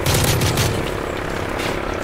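Helicopter rotor and gunfire from the video game Call of Duty: Modern Warfare 3 form a loud, dense combat din with rapid bursts throughout, sounding close and continuous with no talk.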